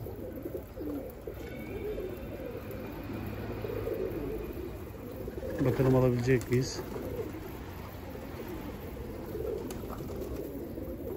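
Telli pigeons cooing in a short burst of throaty calls against steady outdoor background noise, fairly faint and somewhat distant, with someone speaking briefly.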